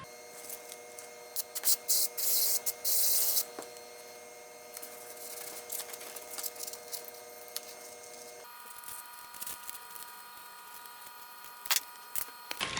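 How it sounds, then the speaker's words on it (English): Several short hissing bursts of spray adhesive onto a sanding disc, the longest around a second, against a steady electrical hum with scattered small clicks. "we're going to spray adhesive to one of these discs so that we can attach it to the sanding drum"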